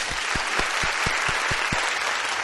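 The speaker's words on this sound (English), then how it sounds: "Please let's give each other a round of applause." A steady, dense wash of audience applause, loud and close, with soft low thumps recurring in a regular beat underneath.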